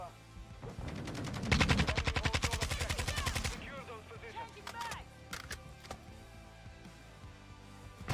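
Rapid automatic gunfire from the video game Modern Warfare II aimed at a sentry, a loud rhythmic burst of shots lasting about two seconds, followed by scattered single shots and game effects, with a player talking now and then.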